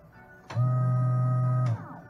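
A boat's bilge pump on a small Gheenoe skiff switches on and runs with a steady, loud electric hum for just over a second, then cuts off, leaving quiet background.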